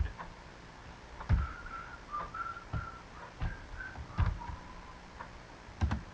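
A person softly whistles a melodic Sonic song remix tune in short sustained phrases, joined by intermittent clicks and taps underneath.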